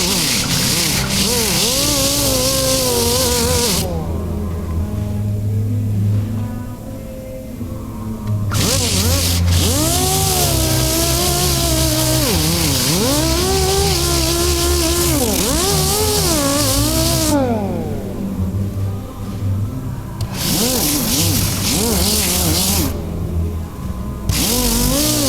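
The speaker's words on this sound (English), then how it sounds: "I'm running the sander very slowly where the quarter panel meets the reverse curve of the wheel opening." A power sander works body filler on a 1968 Camaro quarter panel near the wheel opening, a loud droning whir rising and falling in pitch as speed varies, stopping briefly in a few gaps, close and continuous.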